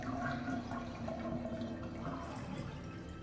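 Dirty water draining from a bathtub in Resident Evil Revelations, a steady gurgling, rushing flow that stays fairly constant and close, faint overall and uninterrupted for a few seconds.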